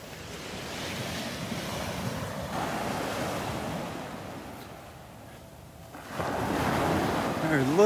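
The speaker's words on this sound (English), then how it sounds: "The little symphony of the waves." Gulf waves at Delnor-Wiggins beach wash in and out steadily, close and fairly loud, with wind buffeting the microphone; the surf dips briefly before swelling again.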